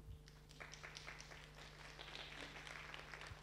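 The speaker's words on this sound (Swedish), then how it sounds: "En applåd." A small audience applauding after a talk on generative landscape architecture, the faint clapping scattered and quiet, heard at a distance for a few seconds.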